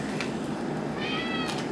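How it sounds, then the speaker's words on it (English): A house cat meows a couple of times close by, short plaintive calls over a steady indoor background hum, with no talk. "What are you doing, kitty? What are you doing?"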